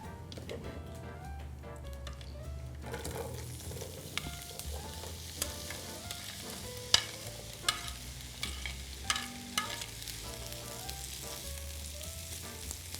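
Vegetables for Thai cashew chicken stir-fry together in a hot pan, a continuous close sizzle broken by scraping stirs and occasional sharp clinks of the utensil against the pan.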